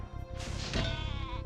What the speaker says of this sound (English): It's an angry sheep.